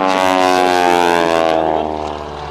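An aerobatic airplane flown by an aerobatic champion at the Abbotsford International Airshow climbs straight up and loops over, its propeller engine droning loud and close with a buzzing, slightly falling pitch as it pulls away.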